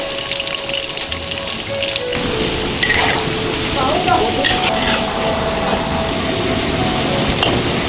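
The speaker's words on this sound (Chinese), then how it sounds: "油烧热呀，放入土豆儿， 还有小个的土豆儿。" Small potatoes slid into hot oil in a wok for a Sichuan-style crispy potato dish, a loud, dense sizzle that swells after a brief quieter start and keeps up a steady, rain-like crackle.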